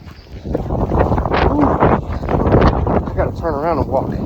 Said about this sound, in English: It's windy. Ooh, this is like a wind tunnel right here.